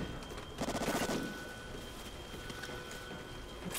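A light machine gun fires in Call of Duty: Ghosts, one short rapid burst of shots lasting about half a second near the start. A dense, rain-like crackle of background noise continues steadily after the burst.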